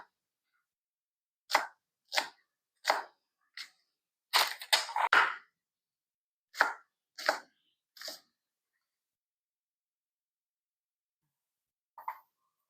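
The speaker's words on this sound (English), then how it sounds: "So I have 3 of these that I'm gonna chop up." A knife chops small onions on a cutting board: about a dozen crisp, separate knocks in uneven clusters, then a pause and one last soft tap, close and clear in an otherwise quiet room.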